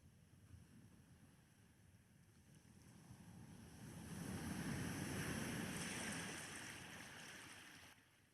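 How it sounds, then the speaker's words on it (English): Ocean waves near palm trees, a soft rushing surf that swells to a broad peak midway and then eases back, faint and airy with some wind. "Sound of the ocean now slowly receding as you walk further between the trees"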